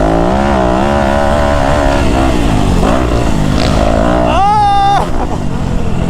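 Dirt bikes, a three-stroke KTM 250 and a Suzuki RMZ450, ride past with steady buzzing engine drone, rising and falling pitch and a sharp rev near the end, loud and continuous outdoors.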